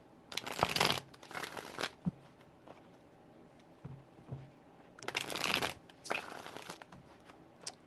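Tarot cards shuffled by hand in two separate bursts of crisp riffling, each lasting about a second or two, with quiet pauses and a few soft taps between them.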